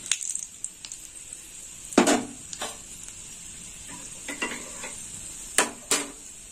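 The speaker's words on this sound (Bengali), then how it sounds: "ফোড়নটা ভাজা হোক।" Fenugreek seeds, dry red chillies and bay leaf fry in hot oil as a tempering for cabbage poppy-seed curry, a soft steady sizzle with a few sharp stirring clinks of a spatula against the pan.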